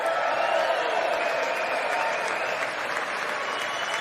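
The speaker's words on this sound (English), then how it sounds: "cheer if you want, but you don't have to stand every time" Steady, dense applause from members of Congress in the chamber during the State of the Union address, a continuous wash of clapping at moderate distance that eases slightly toward the end.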